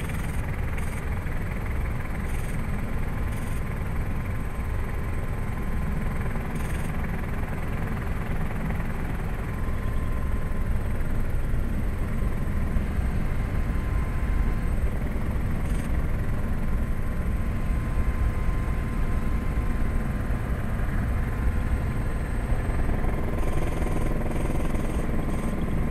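An experimental turbine helicopter drones steadily throughout, a loud continuous rotor and engine roar with a faint rhythmic chop, no voices.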